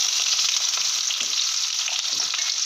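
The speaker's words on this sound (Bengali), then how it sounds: "পেঁয়াজটা বেশ সুন্দর করে ভেজে নেব" Onions frying in oil in a pan alongside whole garlic cloves, dried red chilli, bay leaf, whole spices and cumin, making a steady, close, loud sizzle with faint stirring scrapes throughout and no talking.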